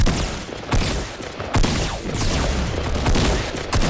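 Shotgun blasts in Fortnite Battle Royale, several loud sharp booms in quick irregular succession with dense gunfire around them, close and dominant, no voices.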